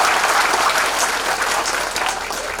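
Dense, steady applause from a large crowd at an election rally in Madhya Pradesh fills the space, loud and continuous throughout with no speech over it.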